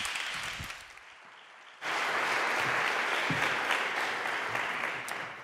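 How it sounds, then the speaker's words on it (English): Conference audience at an Arqus annual gathering in Padua bursts into loud, sustained applause welcoming a speaker to the floor, dense clapping rising abruptly after a quieter room and continuing steadily. "With an applause, of course."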